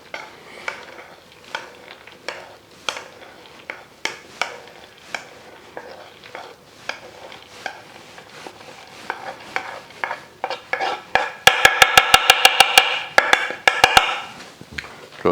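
A spoon stirring and folding chocolate into almond meal cake batter in a bowl, with steady, rhythmic scraping and knocking, close and clear, ending in a quick burst of rapid taps against the bowl.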